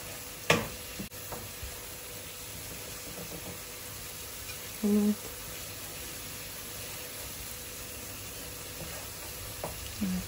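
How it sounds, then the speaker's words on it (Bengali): Quail pieces fry lightly in a pan with a soft, steady sizzle and hiss, broken by a few small clinks and taps of utensils. "আমি হালকা ফ্রাই করি"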